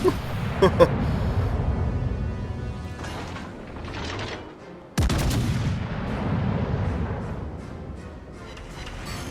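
Warship guns firing in a World of Warships Legends naval battle, heavy booming salvos with mechanical clanking, a sharp loud blast about midway, continuous rumbling gunfire throughout.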